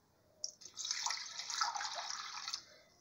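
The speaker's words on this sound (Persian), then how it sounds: "آب رو کمی اضافه میکنیم." Water poured into a bowl of flour to start plain Turkish bread dough, a quiet steady trickling splash lasting about two seconds after a small clink, heard alone.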